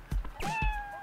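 A cartoon cat meows in the video game Dave the Diver: one drawn-out, close and clear meow, with a few soft thumps of game sound around it and no talking.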